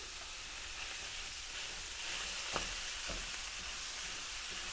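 Minced beef fries in a pan, a dense and steady sizzling hiss that fills the whole stretch, with a couple of brief scrapes or stirs in the middle and no voices.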